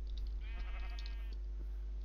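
A sheep in the Minecraft video game bleats once in a short, wavering call over a steady low hum, faint and alone.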